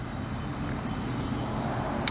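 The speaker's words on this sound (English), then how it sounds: "But we are in the little Corolla wagon." Toyota Corolla wagon driving, a steady low road and engine rumble with broadband tire noise, fairly even and close, no talking.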